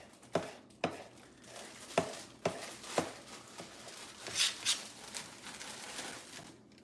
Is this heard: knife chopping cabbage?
yes